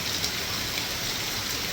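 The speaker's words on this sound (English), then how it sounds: "Rain's coming down pretty good, and my pool is overflowing" Heavy hurricane rain pours steadily onto a backyard with a swimming pool, a dense, even hiss of drops with no voices.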